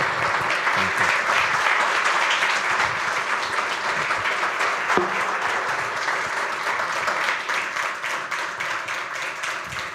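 A room full of people claps steadily for author Roosevelt Montás at a Bexley Public Library Centennial Author Series event. The applause is dense and sustained for the full length, without letting up.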